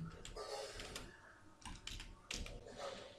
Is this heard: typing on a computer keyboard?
yes